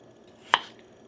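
A knife chopping through potatoes into even pieces for potato soup, a single crisp cut on a board, close and fairly quiet.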